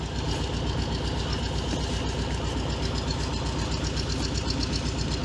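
A T-25 tractor engine runs steadily on a thawing snowy day, its close, loud, rapid rhythmic chugging and knocking continuing without pause; no one speaks.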